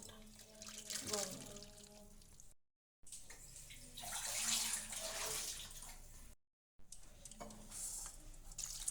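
Tap water runs over freshly boiled pasta in a strainer, a steady close splashing rinse with a couple of brief breaks.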